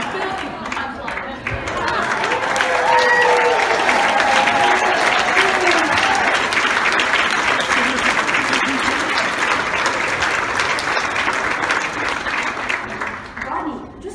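An audience at a retirement celebration applauds in a steady, loud wave of clapping that swells after a brief start and holds for over ten seconds, with a voice speaking over it.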